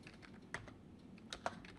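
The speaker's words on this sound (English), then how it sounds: "I'm just typing a few characters and hitting the tab key" Quiet computer keyboard typing while entering a few characters and pressing the tab key, several sparse light key clicks spaced irregularly over a faint hum.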